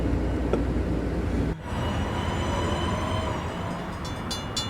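A Long Island Rail Road M9 train in a train simulator game rolls past with a heavy rumble and sustained tonal whine, a brief dip midway, then rapid high squeals or chimes near the end.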